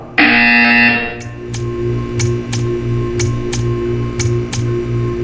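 A loud harsh electronic buzzer from Portal 2 blares for about a second, then gives way to a steady rhythmic ticking with a low pulsing hum underneath.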